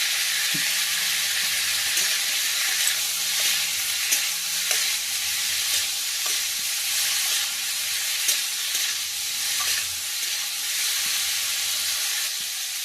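Spices with a little turmeric fry in hot oil in a pan, a continuous bright sizzle broken by regular scraping stirs of a spoon, close and loud with no talking.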